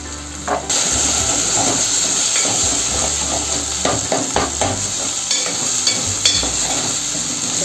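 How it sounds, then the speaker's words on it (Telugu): Tomato, onion and green chilli frying in a pan for a curry, a steady loud sizzle with intermittent stirring scrapes and clinks throughout, no voices. "టమాటా ఉల్లిపాయ పచ్చిమిర్చి మొత్తం వేగిపోయింది"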